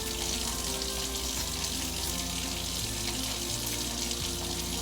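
A peeled onion is rinsed under a running kitchen tap, a steady, loud, close hiss of flowing water with shifting splashes and no talking.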